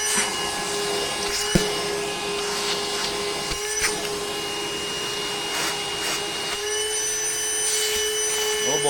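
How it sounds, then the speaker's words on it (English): Small vacuum cleaner sucking drilling debris out of an OM606 diesel engine while the intake cam is being pinned, a steady close whine with a constant tone, with a couple of brief clicks and knocks. "Little vacuum noise coming for you."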